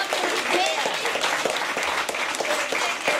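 A theatre premiere audience claps loudly and continuously, dense applause filling the hall while a voice speaks faintly underneath.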